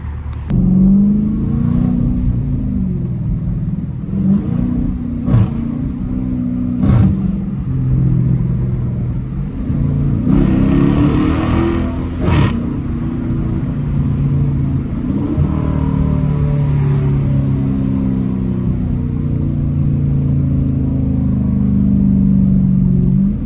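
A Dodge Challenger R/T engine rumbles loudly from inside the cabin and pulls hard through repeated revving surges, with brief shifts and a rising roar across a long, continuous run in traffic.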